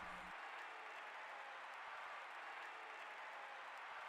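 A stadium crowd cheers in the Coliseum of the video game Dark Cloud after a champion is crowned, a dense, continuous roar of cheering and applause holding steady throughout without any voices rising above it.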